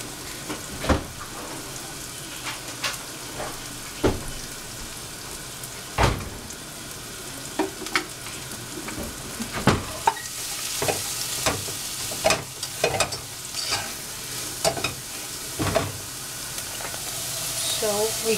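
Broccolette frying in a pan with portobello mushrooms being stirred, a steady sizzle running under repeated scraping and clacking strokes of the utensil, with occasional speech nearby.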